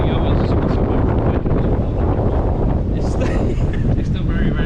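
Strong wind the day after Hurricane Nicole roars across the microphone in loud, continuous buffeting gusts near the coast.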